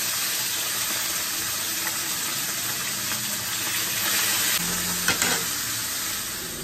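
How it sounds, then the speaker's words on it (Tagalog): Galunggong fish fries in a pan with a loud, steady, dense sizzle that holds throughout, plus a few faint clinks near the end. "magprito na tayo"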